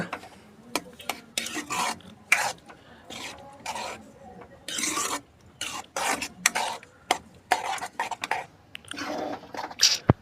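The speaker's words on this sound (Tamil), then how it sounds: "இப்போ அடுப்பை லோ ஃப்ளேமில் வச்சு நல்லா கலக்கி விட்டுடலாங்க" Eggs being stirred in a pan over a low flame for a fluffy egg fry: repeated scraping and rasping strokes in irregular bursts separated by short pauses, close and moderately loud, with no speech.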